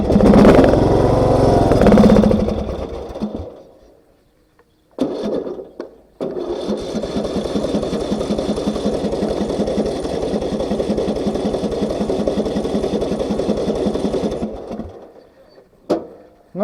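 Engine of a car just given an engine swap and custom exhaust cranks and fires, cuts out, then catches and runs with a rapid, even, rattly idle before shutting off, heard up close.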